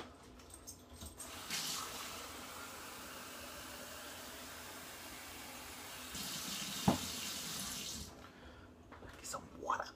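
A kitchen faucet runs to fill a drink with water, a soft steady hiss lasting several seconds with a brief louder gush near the middle, then a short pause before the stream stops.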